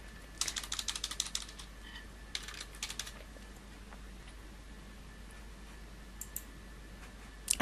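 Computer keyboard typing and mouse clicking while using software, with quick bursts of faint, close key taps separated by quiet pauses and a few isolated clicks.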